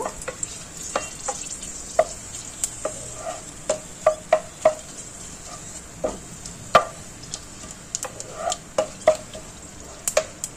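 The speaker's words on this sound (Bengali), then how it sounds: "ফোড়নটা একটু ভাজা ভাজা হয়ে যাক।" Whole spices with bay leaf and dried red chilli crackle and sizzle in hot oil, with sharp pops and clicks scattered irregularly over a steady frying hiss, close by.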